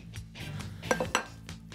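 Plates and dishes clink in a home kitchen as a platter is set out for slicing a kulebyaka pie, with a few sharp knocks near the middle of a short, quiet stretch and no talk.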